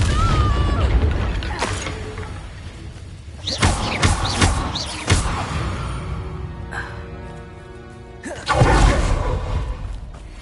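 Confringo spell blasts in Hogwarts Legacy, several heavy booms and crashes scattered through a busy game scene, with a loud impact near the end and brief whooshing debris between them.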